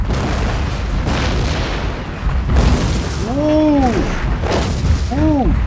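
Naval bombardment shells strike during a siege battle in Shogun 2: Fall of the Samurai with a continuous, heavy rumbling roar of explosions and deep booms. Faint tonal whistles also ring out over the din.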